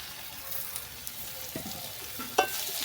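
Ridge gourd tossed into a pan of browned fried potatoes, with a steady close sizzle of oil and a few scraping stirs of a spatula, the loudest scrape near the end; no talking.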